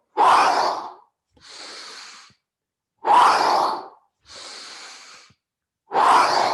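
A person at a yoga class breathes deeply, with loud close inhales drawn through the nose alternating with softer, airy exhales out the mouth, in a slow, steady rhythm of about two and a half full cycles.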